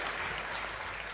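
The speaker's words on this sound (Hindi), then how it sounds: "तालियां जोरदार वाली बजाओ एक बार जरा।" Audience applause at a Gujarat kavi sammelan, a dense steady wash of clapping from the crowd with no voices over it.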